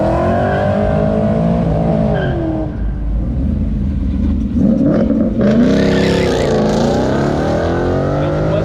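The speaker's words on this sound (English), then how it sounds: "That's a Mustang right there." Ford Mustang engine at a car show revs loud and close, its pitch rising and falling through throttle blips with a rough exhaust roar, a second surge of revving swelling in the latter half.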